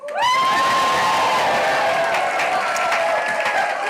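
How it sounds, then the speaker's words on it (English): A lively crowd cheers, whoops and applauds loudly and continuously, with voices and clapping blended into a dense, sustained roar close by. "Such a lively crowd."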